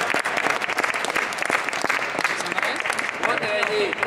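A crowd claps for team Sunrise at an LPL 2010 award ceremony: continuous, fairly loud applause with scattered voices beneath, a brief higher whistle-like tone near the end.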